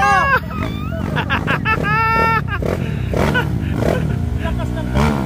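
A loud dirt motorcycle revs on an off-road trail in Magallanes, its engine whining up and down in sharp bursts close by, with people chatting and shouting over the noise.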